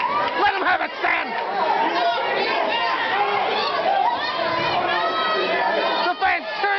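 A live pro wrestling crowd cheers and chatters in a steady, energetic roar, with shouts rising out of the noise and voices talking over it from start to finish.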